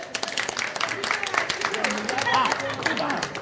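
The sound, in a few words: audience clapping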